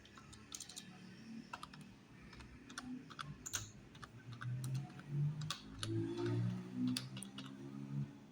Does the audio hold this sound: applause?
no